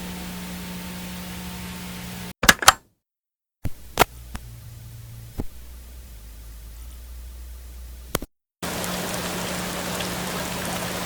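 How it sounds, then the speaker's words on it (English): Heavy rain pours outside against a window, a steady close hiss that is broken by a few sharp clicks and two brief dead-silent dropouts before it resumes. "It's raining pretty heavy outside now."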